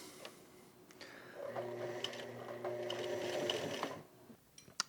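A domestic sewing machine stitches buttonholes on a band-collar button-up shirt, a steady mechanical whir with rapid needle clatter rising for a few seconds, then stopping, followed by a small click.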